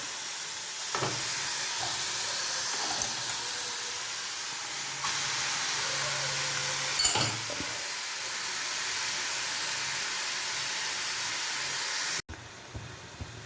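Cabbage and tomato frying and being stirred in a pan: a steady, close hiss and sizzle running throughout, broken by a few faint scrapes and taps of stirring, with no talk, ending in a brief cut.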